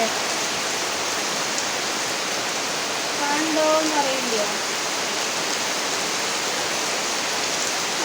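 Steady rain hisses evenly throughout, with a voice speaking briefly in the middle.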